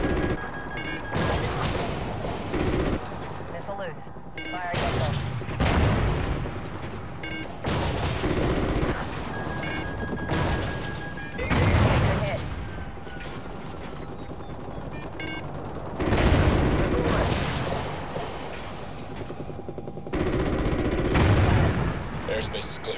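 Repeated bursts of gunfire, some heavy and booming, come in waves roughly every few seconds across a long stretch, mixed with voices talking over radio-style chatter.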